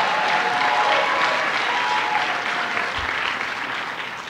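Steady applause from a crowd at a breakfast event fills the air, a dense wash of clapping that slowly eases off toward the end.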